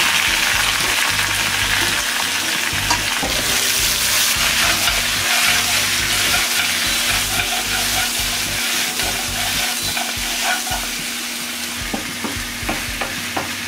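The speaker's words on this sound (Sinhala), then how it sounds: "දැන් තෙල් ටිකෙන් මේ ටික බැදෙන්න ඕනේ පොඩ්ඩක්." Mutton pieces frying in oil in a pan for Sri Lankan mutton curry give a steady, close hiss and sizzle. Stirring scrapes and crackles sound throughout.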